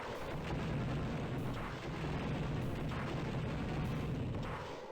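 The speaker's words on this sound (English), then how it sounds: "We're going to use some missiles." Booming missile launches and explosions in the Star Wars: Dark Forces video game come as a dense, continuous barrage of heavy blasts over a noisy, rumbling background.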